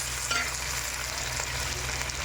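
Sliced onion and curry leaves fry in hot oil for a mushroom biryani base. A continuous close sizzle is broken by faint scraping stirs, with no voices.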